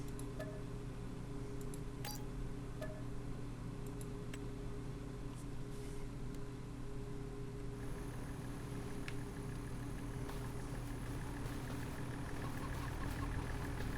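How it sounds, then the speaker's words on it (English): A tractor engine runs with a steady, low, droning hum that holds at an even level throughout, with no voices over it. "Oops, there's the tractor."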